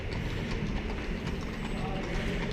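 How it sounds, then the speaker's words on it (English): Horse-drawn carts clip-clop at Plaza de España in Seville, a steady hoof rhythm mixed into dense outdoor crowd noise and murmuring voices. "The ubiquitous horse and carts."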